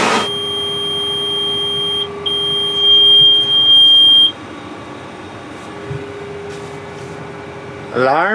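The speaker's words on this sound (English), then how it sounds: "Alarms are going off and the screens aren't even woke up yet" Alarms beep from the control screens of a spray tender as they power up, with sustained electronic tones that shift partway through and a hum of machinery underneath, close and fairly loud.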